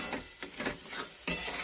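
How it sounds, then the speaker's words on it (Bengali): Eggs and tomato are stirred and fried in a pan, with rhythmic scraping strokes over a soft sizzle and a sudden louder hiss near the end. "এবার এই নাড়িয়ে নাড়িয়ে একটু ভাজা করবো।"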